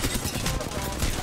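Rapid automatic gunfire in the Apex Legends battle royale game, a short dense burst of shots packed close together at moderate loudness, heard alone without talk.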